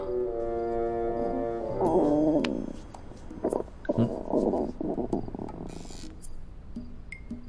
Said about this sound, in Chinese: 是我肚子叫。